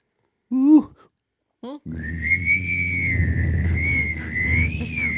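A steady whistled note holds over a low droning hum, after a few short rising vocal sounds and brief gaps near the start.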